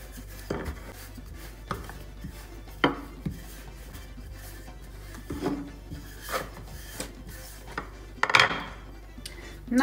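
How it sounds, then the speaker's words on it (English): A knife cuts and trims Georgian hachapuri dough on a board, sounding as a series of irregular close taps and scraping strokes with quiet gaps between them. "Now we will use knife to cut pieces which we don't need for Hachapuri."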